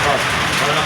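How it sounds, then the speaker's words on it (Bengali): Heavy rain pours during a storm, heard from shelter inside a shop: a loud, steady broadband wash with no breaks, filling the whole moment. "প্রচণ্ড ঝড় হচ্ছে, প্রচণ্ড ঝড়। এই ঝড় বৃষ্টিতে আমরা দোকানের ভিতরে লুকিয়ে আছি।"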